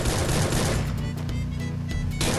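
Rapid bursts of gunfire from the Free Fire battle royale game fill the moment, dense and loud, with clustered sharp shots over a steady game background.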